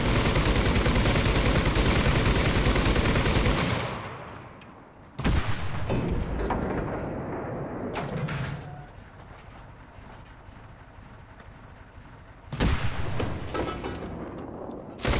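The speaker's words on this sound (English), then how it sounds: "shooting my main cannon, firing the machine gun, and looking for where the enemy's coming" A tank's machine gun and main cannon fire in a video game. A long, rapid, continuous stream of machine-gun fire gives way to three separate heavy cannon blasts, each followed by a rumbling decay.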